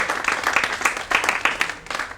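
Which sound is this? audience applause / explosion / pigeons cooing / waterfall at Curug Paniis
audience applause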